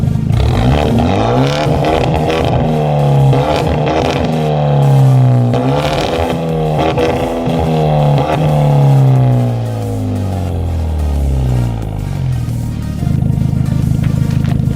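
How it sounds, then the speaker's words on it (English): A Hyundai Genesis Coupe with an aftermarket exhaust revs hard out in the open, loud engine notes rising and falling in repeated sweeps, then settling into a steady idle rumble near the end. "I'm gonna give it a couple reps, give it a couple blap blap"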